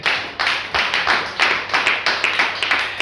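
A church congregation claps in quick, fairly even rhythm, loud and close, a dense run of hand claps filling the whole stretch without talk.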